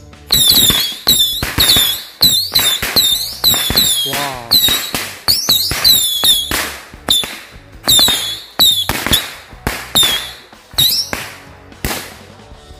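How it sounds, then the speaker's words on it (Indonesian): A 25-shot firecracker box fires a rapid series of sharp, loud bangs with whistling crackle at night, bursts coming in quick irregular succession, with a brief exclamation from a voice. "selanjutnya ini kita nyalakan mercon tikus box 25 shot"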